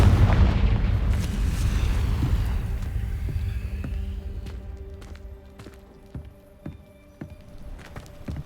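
A Confringo fire spell explodes in Hogwarts Legacy with a loud, rumbling blast that slowly decays, followed by scattered sharp cracks and impacts as debris settles.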